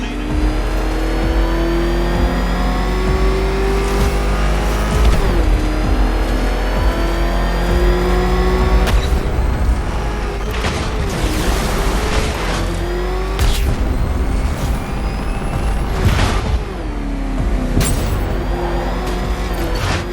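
The Batmobile's engine races in the video game Batman: Arkham Knight, a loud, continuous roar that rises and falls with revs and shifts, punctuated by sharp booms and thumps, with a voice faintly underneath.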